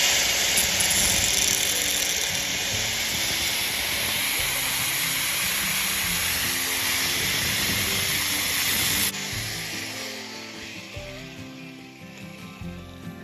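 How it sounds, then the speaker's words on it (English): A grinder smoothing a plexiglass corner whines steadily with a harsh, hissy abrasive sound for several seconds, then cuts off and winds down, close and loud. "I certainly have never used a grinder on plexiglass"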